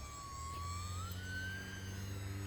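An E-flite Cirrus SR22T UMX electric RC airplane motor whines under throttle, a steady hum whose pitch rises gradually during a flight outdoors, continuous with no talking.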